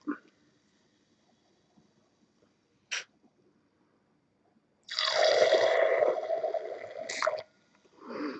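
Water is emptied from a bottle during e-liquid mixing in a close, wet gurgling pour of about two and a half seconds, with a few small clicks before it and a short splash at the end.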